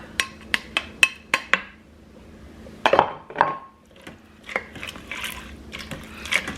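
Chopped ham and bacon being added to a pot of beans, with a series of sharp taps of a utensil against the pot, then softer clatter and wet plopping scattered through, close and moderately quiet.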